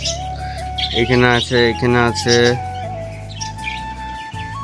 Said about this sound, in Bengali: পায়রাগুলো রয়েছে এই দিকটায়